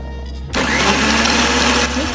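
Kitchen mixer grinder blending mint, lemon juice, sugar, ice cubes and water into mint lemonade, switching on abruptly with a loud, dense motor whir and churning roar that holds steady close by.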